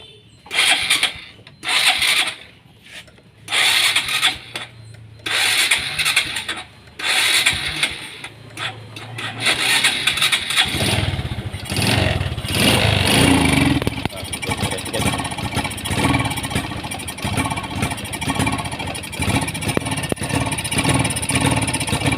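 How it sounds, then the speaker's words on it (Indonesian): Honda Supra X 125 motorcycle that starts hard and sputters when revved, heard cranking in short bursts, then catching and running with an uneven, choppy idle, close by, with someone talking over it. "digas motor ini blebes, ngempos, dan mau mati ya teman-teman"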